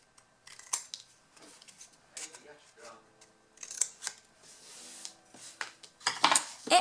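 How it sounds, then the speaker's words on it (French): Scissors snipping the edges of paper at an angle for a mini album, with short crisp cuts and rustling paper heard close, while someone talks. "on va couper les bords en biais pour que ça fasse plus joli"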